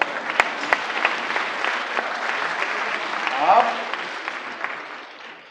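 Audience applause at a product launch event, a broad steady patter of clapping lasting throughout, with a spoken voice over it.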